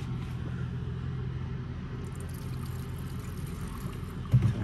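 An abandoned Mercedes car, long unused and with a fuel pump problem, runs with a steady, close, low engine rumble that holds an even level with no distinct revs, ending in a brief knock.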